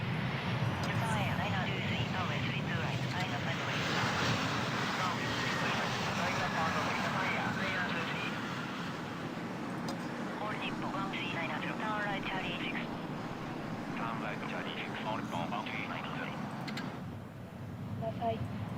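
Arriving airplane in the Tower 3D Pro air traffic control game, a continuous engine roar at moderate level that swells and fades slightly across the span, with chatter and radio-style voices running over it.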